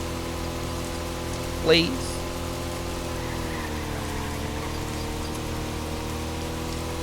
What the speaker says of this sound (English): And it's raining again, bro.